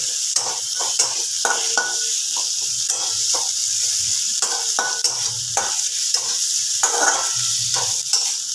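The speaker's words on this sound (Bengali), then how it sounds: "ওই হাফ পেঁয়াজটা আমি এখানে দিয়ে দিলাম পেঁয়াজটা খুব ভালোভাবে ভেজে নিতে হবে একটু লাল করে" Half an onion frying in a pan, a continuous hissing sizzle with frequent clattering scrapes of a utensil stirring it, close and fairly loud, no speech over it.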